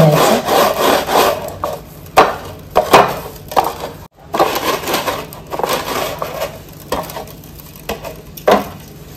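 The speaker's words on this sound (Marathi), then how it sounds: "तीळ आणि खसखस आपण बर्फीला लावून घ्यायचं, त्याचं गोल गोल फिरवायचं" Pieces of dry fruit barfi are rolled around in sesame and poppy seeds, producing a series of close, uneven rubbing and scraping strokes with short pauses between them.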